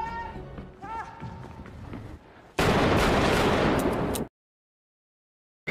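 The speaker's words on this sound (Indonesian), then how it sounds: "Dia memutuskan untuk menggunakan bedilnya dan langsung menembak mati ketiga pemuda itu." Gunfire from the Joker film scene where Arthur shoots three young men: a loud, dense burst of shots bursting in after quieter voices and music, running for about two seconds before cutting to silence.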